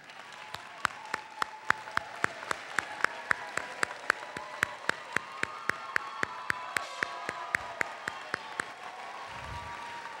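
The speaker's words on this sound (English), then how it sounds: "Those students that are graduating with honors, please stand for applause." At a 2013 Berkeley City College graduation ceremony, the audience applauds honors students. Soft, steady crowd clapping is punctuated by one nearby pair of hands striking sharp, evenly spaced claps.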